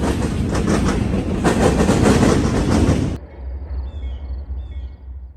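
A freight train in Marion, Ohio rolls past loud and close with dense rhythmic clickety-clack of wheels on rail joints, then cuts off abruptly to a quiet low rumble.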